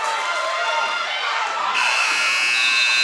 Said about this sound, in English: And the buzzer buzzes.